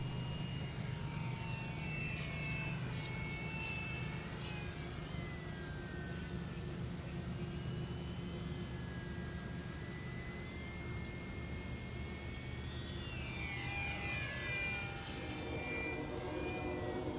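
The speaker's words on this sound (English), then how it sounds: "Voodoo flies well with the gear on, and you can pretty much do any aerobatics with the gear on" An E-Flite UMX P-51D Voodoo RC model plane flies overhead, its thin electric whine sweeping up and down in pitch as it passes near and away, steady and continuous against outdoor background noise throughout.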